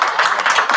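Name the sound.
audience applause at city commission meeting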